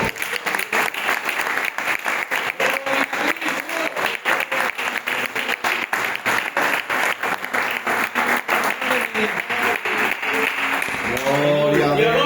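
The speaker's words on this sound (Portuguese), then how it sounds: "Dá um aplauso ao Senhor." A church congregation in Monte Gordo in the Algarve applauds, loud and sustained steady clapping filling the room for over ten seconds, with voices rising near the end.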